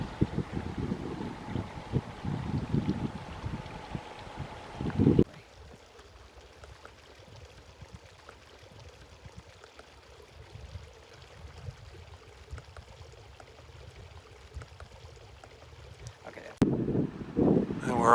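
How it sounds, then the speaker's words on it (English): Wind gusts rush through leaves outdoors in Breckenridge in fall, a steady airy roar with microphone buffeting, stronger at the start and end. "You can see the wind blowing the leaves."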